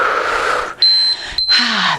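A workout interval timer gives a clear electronic beep, a steady tone that repeats a few times in quick succession between stretches of background talk.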